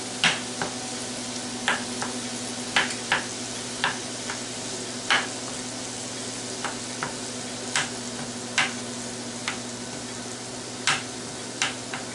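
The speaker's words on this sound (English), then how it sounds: "I hear the ground beef starting to sizzle a little bit" Ground beef sizzles steadily in a Ninja Foodi, a constant soft frying hiss punctuated by sharp irregular ticks and taps as the meat is broken up, with no voices.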